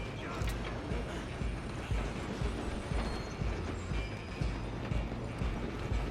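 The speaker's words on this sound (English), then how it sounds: "I'm gonna ride ahead and stop the train" A steam train runs steadily in a Western open-world game, its rhythmic chugging and mechanical clatter continuous and fairly close, with hoofbeat-like thumps mixed in and no speech.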